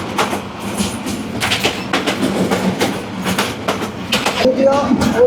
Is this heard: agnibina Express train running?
yes